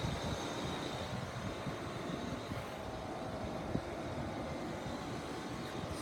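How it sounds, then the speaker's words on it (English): A train passes near a commercial property as a steady, broad rumble and rushing roar at a moderate distance, faint overall and unbroken throughout with no talking. "Oh, it's that train right there."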